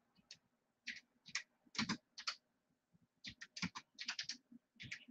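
Typing on a computer keyboard, with bursts of quick, close clicking keystrokes separated by short pauses in an otherwise quiet room.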